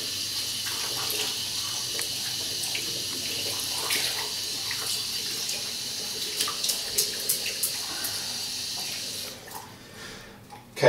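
Running tap water splashes steadily as a shaving brush is rinsed under the faucet, a continuous broad hiss with small splashy bursts, ending abruptly when the flow is shut off.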